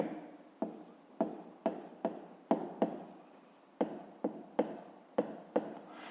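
Chalk or marker strokes scratch across a board as numbers are written for a fifth-grade maths exercise, a series of about a dozen short rhythmic scrapes with sharp onsets, close and alone.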